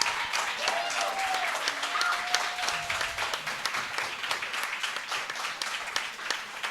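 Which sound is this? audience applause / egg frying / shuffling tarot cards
audience applause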